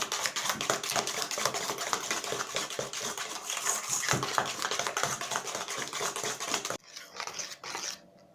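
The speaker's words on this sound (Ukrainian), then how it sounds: "поступово вводимо масло вершкове з цукром і гарно-гарно його змішуємо" Custard cream being beaten with butter and sugar in a bowl: a steady, quick clatter of a metal utensil scraping and tapping against the bowl, close and continuous, stopping abruptly near the end.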